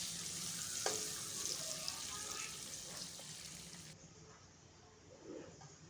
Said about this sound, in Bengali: এরপর আমি পেঁয়াজ মরিচটা হালকা বাদামি করে ভেজে নেব।